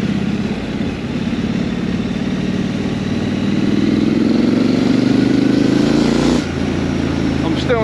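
A Triumph Scrambler 900 motorcycle engine runs close by at a bike night, its low drone rising steadily in pitch as it revs, then dropping abruptly near the end.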